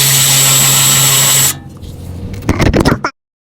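A power tool spins out a 12mm bolt under a 2020 Toyota 4Runner during an oil change, a loud steady whine for about a second and a half, followed by quieter rattling and a few clanks of loose parts.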